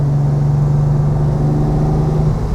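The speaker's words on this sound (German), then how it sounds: "Motor klingt gut, ne?" A 1966 Ferrari 330 GTC with a 300 hp Colombo V12 engine pulls strongly under load, a loud, steady, close engine drone with a smooth, even tone and no talk.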